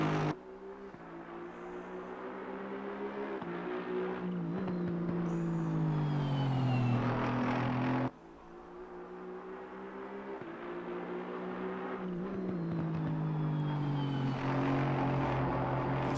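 Aston Martin V8 race car in Assetto Corsa Competizione at Monza, engine droning loudly as revs climb through gears, pitch dropping at each upshift, then a sudden lift and renewed acceleration, with no talk.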